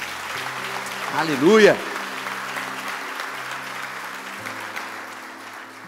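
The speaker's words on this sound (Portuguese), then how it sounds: "Se você crê, aplauda o Senhor em nome de Jesus." A church congregation applauds, a steady wash of clapping throughout, with a voice briefly calling out over it early on.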